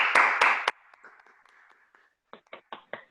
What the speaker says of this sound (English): Those muted claps are great.